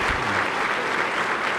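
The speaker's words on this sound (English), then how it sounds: "Round of applause, everyone." A crowd in a Senate chamber applauding, a dense, steady burst of clapping that stays loud and even throughout, with no voices heard.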